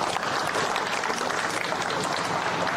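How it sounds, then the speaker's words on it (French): An audience at a commemoration of the 80th anniversary of the Conseil National de la Résistance claps steadily for an incoming speaker, an even wash of applause with no voices. "Vous pouvez l'applaudir."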